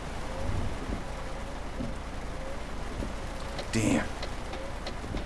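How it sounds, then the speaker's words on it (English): Rain in Euro Truck Simulator 2 falling on a Mercedes Actros truck on a desert road to Morocco, a steady hiss of drops with a brief louder burst, a voice briefly over it. "The rain in the desert."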